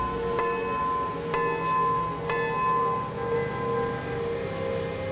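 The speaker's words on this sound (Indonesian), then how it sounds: "Hari ini lonceng gereja Sion masih rutin berdentang." Sion Church bell in Jakarta tolling in three clear, evenly spaced strokes, each ringing out with a long shimmering decay over a steady background hum of street noise.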